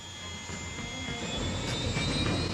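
Black Hawk helicopters fly toward Mount Hood on a rescue mission, a loud steady turbine roar with a high whine that swells slightly as they pass, with no voices.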